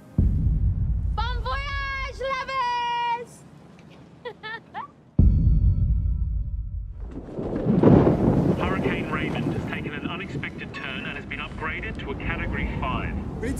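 A violent storm at sea in a 2018 film trailer, with a loud roaring wind and deep rumbling like thunder that swells over the second half, after a voice speaks against a quieter stretch.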